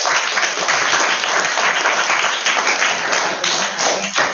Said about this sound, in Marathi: याच्यासाठी टाळ्या वाजवा सगळ्यांनी